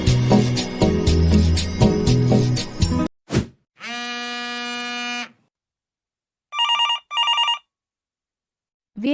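A telephone rings in a drama scene, opening over loud music and a thud, then a sustained electronic ring tone followed by two short ring bursts separated by silence.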